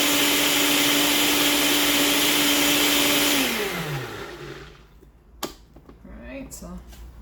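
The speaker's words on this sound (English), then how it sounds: "So you want to get these blended very well because you want almost like a puree." A blender purees dried chiles for birria consomé, a loud steady motor whir that runs for about three seconds, then winds down and stops, leaving quiet room sound with a brief clatter.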